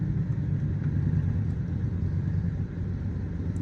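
A 400 hp Mercedes W205 car's engine gives a steady, muffled low rumble, faint and unbroken, with no one talking.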